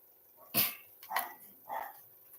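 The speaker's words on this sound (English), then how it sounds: "My dog is barking." Three sharp barks from one dog sound in quick succession, spaced about half a second apart, somewhat distant and fairly quiet.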